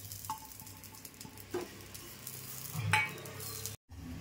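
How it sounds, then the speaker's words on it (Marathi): Grated dry coconut dry-roasting in a pan, a soft faint crackle and scrape from stirring with a couple of light utensil taps, quiet and close with no talking. "सुकं खोबरं किसून घेतले, ते पण भाजून घेते."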